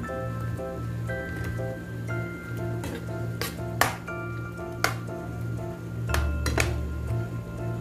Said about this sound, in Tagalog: Then, haluin po natin siya.